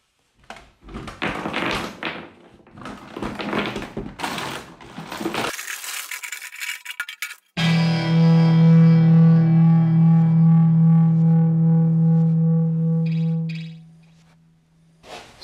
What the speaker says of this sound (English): So I want to cut open one of these more modern ones